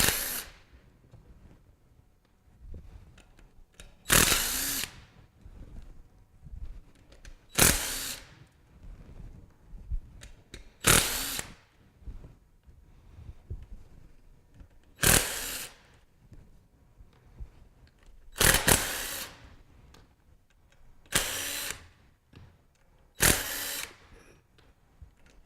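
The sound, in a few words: power drill removing screws from manual pump cap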